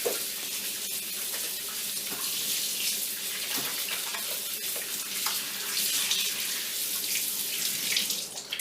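Tap water runs steadily into a sink during handwashing, a continuous close hiss and splash with small shifts as hands move under the stream, and no voices.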